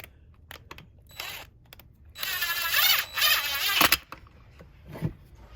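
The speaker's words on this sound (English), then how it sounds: "Take that screw and we're gonna run it in over here on this side of the handle." A screw driven into the handle of a Stihl 046/MS460 chainsaw during final assembly: a burst of whirring, clicking driver noise lasting about two seconds, with a few light knocks and handling sounds before and after, close by.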